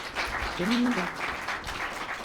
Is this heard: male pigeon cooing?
no